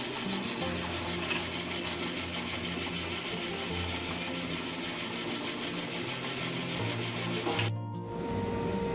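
A sliding miter saw or small bandsaw trimming scrap off wooden grill scraper pieces, a steady whirring hum with a grinding cut that stops abruptly near the end.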